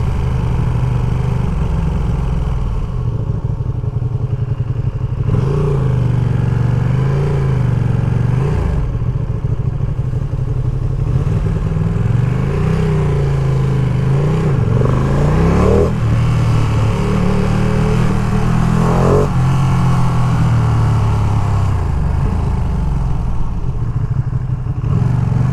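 A 2023 Ducati Panigale V2 motorcycle runs on a ride around New York City, its engine droning loudly and continuously, rising and falling with throttle changes over steady wind and road noise.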